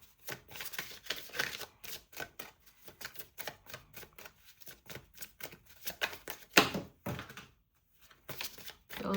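Oracle cards are shuffled by hand at close range, giving a steady run of quick papery riffles and flicks, with short pauses between bursts.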